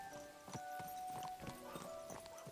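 Horse hooves clip-clopping in the video game Kingdom Come: Deliverance II, a steady walking rhythm of soft thuds over a quiet in-game background with faint tonal music.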